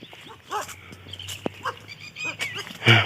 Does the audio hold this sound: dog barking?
yes